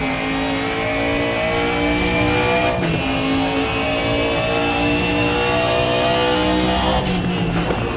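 An Audi DTM 92 race car engine in the Raceroom video game, a loud sustained high-revving drone that pitches steadily, dips briefly as if shifting gear, then climbs again, with no talk.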